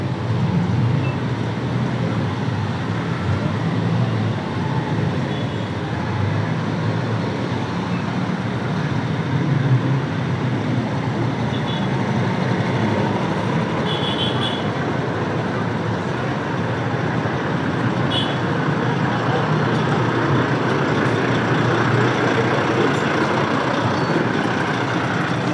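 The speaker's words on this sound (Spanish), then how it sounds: "Es interminable la cantidad de autos" A long procession of cars in a campaign motorcade for a mayoral candidate in Chosica rolls past in a steady, loud, continuous rumble of engines and road noise, unbroken from start to finish, with no talk.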